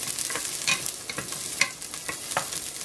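Green chilies frying in a pan for a South Indian style chicken soup, a close, steady sizzle with a few quick scraping stirs.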